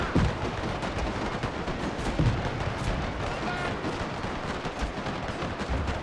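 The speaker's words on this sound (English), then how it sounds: "So we get a constant fire going. From all the machine guns here." Machine guns firing at a British fort in a Total War game set in the Anglo-Zulu War, a dense, continuous rattle of overlapping gunfire with heavier booming shots, loud and unbroken throughout.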